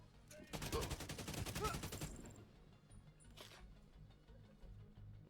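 Gunfire in The Division 2 game: a rapid automatic burst of rattling shots up close lasting a couple of seconds, then one brief shot and a low rumbling backdrop.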